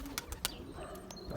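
Young racing pigeons in flight near their loft, with a few soft coos and chirps and brief wing-flap bursts over a steady outdoor background.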